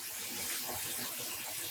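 Tap water pouring into a dye pot while mixing black yarn dye at home, a steady close rushing gush that runs continuously without a break.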